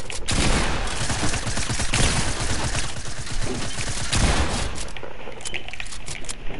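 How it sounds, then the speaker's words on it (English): Heavy gunfire in a multiplayer shooter, with shotgun blasts mixed into a dense, loud barrage of overlapping shots and booms that eases off toward the end. "I hit every shotgun shot."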